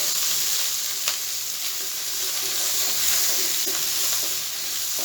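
Two chopped bell peppers sizzle steadily in a hot pan for spicy chicken, a loud, continuous frying hiss with occasional crackles and faint stirring, with no one talking.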